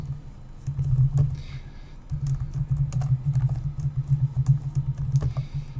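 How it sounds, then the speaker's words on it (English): Steady typing on a computer keyboard, a continuous patter of close keystrokes over a low background hum, briefly pausing near the two-second mark before carrying on. "If we want to type a bit of text in there"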